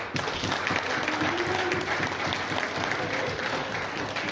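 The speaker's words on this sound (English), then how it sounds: "you should give them guys a nice round of applause." A crowd at a basketball awards banquet applauds steadily, a dense patter of many hands clapping at even strength throughout.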